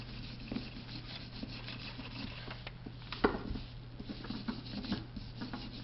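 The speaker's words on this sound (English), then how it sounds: "trusty wire brush" A wire brush scrubs dirt and grease off a VW distributor in quick, quiet rubbing strokes with a few sharper scrapes, close up over a steady low hum.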